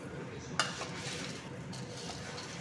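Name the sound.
stirring boondi mixture with spice powder in a pan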